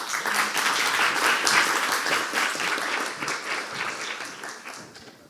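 An audience at a game pitch event gives loud, brisk applause for a team presenting a 2D platformer, holding steady before thinning and fading over the final seconds.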